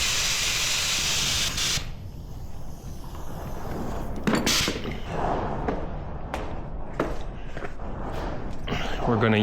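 Wurth multi-purpose solvent sprayed in a long hissing blast onto spilt brake fluid beneath a Victory motorcycle, then a pause with light handling noises and several shorter spray bursts.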